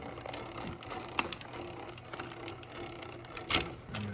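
A weld press trims excess material from a custom-built lineman boot, producing quiet mechanical whirring with irregular clicks and a few sharper snaps.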